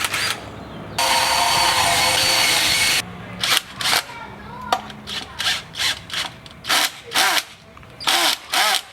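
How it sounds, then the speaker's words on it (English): A power drill countersinks screw holes in a scooter deck, first one long steady whine, then a run of short, evenly spaced bursts close to the microphone with brief pauses between them. "We're gonna countersink this."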